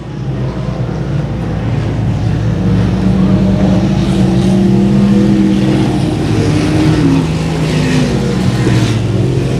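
Stock race cars roar around an oval track at the Star-Spangled 200, a loud sustained engine drone that swells and fades as the cars pass.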